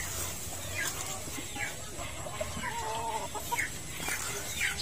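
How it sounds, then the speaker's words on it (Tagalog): Hens, including a White Knight Peruvian, clucking softly in a background of steady noise, scattered short calls rising now and then, moderately distant and faint. "Si White Knight Peruvian na inahin natin."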